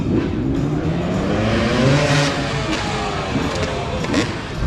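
A KTM motocross motorcycle engine at a motorcycle show riding demonstration revs and drones loudly and continuously, rising and falling in pitch as it passes at moderate distance.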